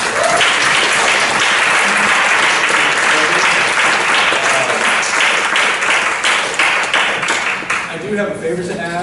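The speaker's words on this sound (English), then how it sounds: "I'd like to just give the panelists a warm round of applause." Warm round of applause from a conference audience for a panel at an impact investing event, dense steady clapping filling the room for about eight seconds before thinning out near the end.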